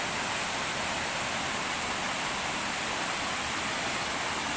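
A forest waterfall pours in a steady, loud, broadband roar of falling water, continuous and unchanging with no voices.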